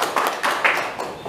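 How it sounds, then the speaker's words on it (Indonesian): Scattered applause from a seminar audience at a disaster-preparedness gathering in Tegal, Indonesia, a handful of uneven claps in short bursts, fairly close and somewhat thin. "tepuk tangan dulu untuk Bang Juliana."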